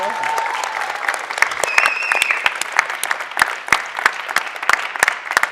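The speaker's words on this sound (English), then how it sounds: "Can we give everyone a round of applause, please?" Audience applause at a virtual conference broadcast live from Facebook HQ: a dense, steady wash of many hands clapping, close and loud, with sharper individual claps standing out and a brief voice heard under it near the start.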